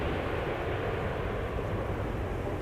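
Engines of a large GE90-powered aircraft roar steadily on the runway at Schiphol airport, a continuous broad rumble heard from a distance without interruption.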